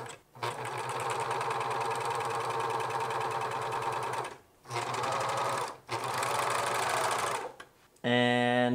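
A serger overlocker runs a straight seam down the front of a pair of men's joggers, a loud dense mechanical whir in three long bursts with brief pauses between, ending on a short hum.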